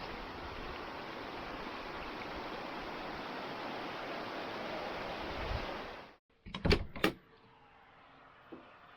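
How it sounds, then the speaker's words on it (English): Steady broadband rushing of a river flowing right behind a National Forest Service campground in Oregon, loud and continuous for about six seconds, then cutting off to near quiet with a few sharp thumps and clatters. "there is a river right behind us"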